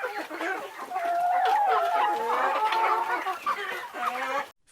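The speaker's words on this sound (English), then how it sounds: "Chickens." Chickens cluck and squawk in a busy overlapping flock chorus, close and steady throughout, with no one speaking.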